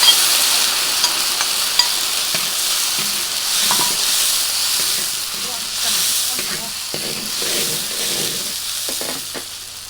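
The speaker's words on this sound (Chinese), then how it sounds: "好，现在我开始来炒了。 葱姜蒜儿、干辣椒、干花椒、香油。" Scallion, ginger, garlic, dried chili and Sichuan pepper stir-fry in a wok, giving a constant loud sizzle and hiss with scattered scraping and tossing sounds from the spatula.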